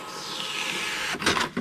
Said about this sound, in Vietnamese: Rồi các bạn bấm in thử nè.